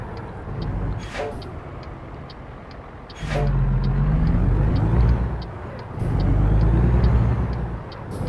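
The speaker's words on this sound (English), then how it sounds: "Oh, driving a different truck today. I'm driving my Kenworth." Kenworth truck driving in American Truck Simulator, engine droning and surging through gear changes with rising and falling pitch, brief hissing bursts between, steady ticking in the background, no talking.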